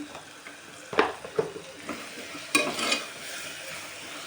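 Ground spices with sambar masala fry in a pan of oil for a chickpea pulao, giving a steady soft sizzle broken by a few sharp scrapes and clinks of stirring.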